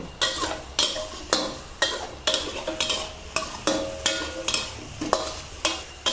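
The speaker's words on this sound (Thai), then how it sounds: "ใช้ไฟอ่อนๆนะคะ ค่อยๆ คั่วไป จนให้ทุกอย่างมีความสุก" Chili, shallot, garlic and ginger stir-fried with a little water over low heat, with rhythmic scraping stirs about every half second over a gentle sizzle, close and clear, no talking.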